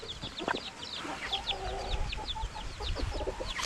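Native chickens cluck and chatter in a flock being raised for sale, repeated short calls at close range over low rustling and background noise, without speech.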